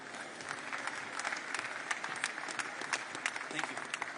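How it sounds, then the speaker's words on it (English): Steady audience applause at a live public event where Sam is being welcomed on stage, a dense crackle of many hands clapping throughout, moderately distant and without pause. "You can applaud him."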